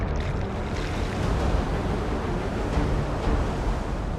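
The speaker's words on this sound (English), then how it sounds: "Attempting to duck under the lip of the wave, Francisco is taken down." Big ocean waves at a big-wave surf spot break in a steady, loud roar of rushing water and churning white noise that carries on throughout, with no voices.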